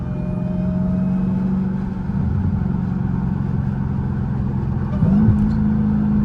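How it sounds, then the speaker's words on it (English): A 900-horsepower Dodge Hellcat engine drones steadily from inside the car, then its pitch jumps sharply near the end as the gearbox downshifts, the note rising and whining louder; no one speaks over it. "I hope y'all hear that downshift"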